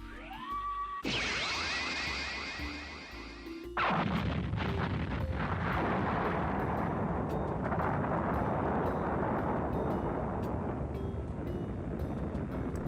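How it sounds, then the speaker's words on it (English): A rising synthetic whine breaks into a heavy, roaring blast that rumbles and crackles on for several seconds, loud and sustained like a large explosion; the Tower of Babel blast effect from the anime Nadia: The Secret of Blue Water. "there's a sound effect here, the Tower of Babel blast explosion"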